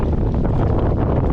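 Strong wind of about 40 miles an hour buffets the microphone on a lakeshore while bank fishing for crappie, a loud, continuous low roar and rumble with no talking.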